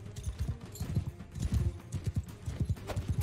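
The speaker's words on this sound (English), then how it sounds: "I think the horse is gonna go down this charge." Horse charging in Mount & Blade II: Bannerlord during a battle against looters, rapid thudding hoofbeats in a galloping rhythm, loud and close, steady throughout with no talk.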